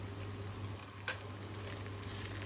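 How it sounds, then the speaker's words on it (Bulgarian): Meat fries for Uzbek pilaf, giving a steady, close sizzle with one brief stirring click partway through. "искам просто да ви покажа как вече почна да се пържи месото"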